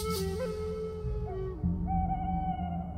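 An owl hooting in the point-and-click game Barrow Hill: a few drawn-out, wavering tonal calls that shift in pitch, moderately loud over a steady low background drone.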